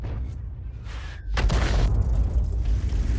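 An FV3805 self-propelled artillery gun in a video game fires a shell, with one heavy, close boom followed by a sustained low rumble that carries to the end.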